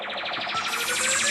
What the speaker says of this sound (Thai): อันนี้มันพวกเอฟเฟกต์อันนี้เป็นเอฟเฟกต์ดีเจตัวที่3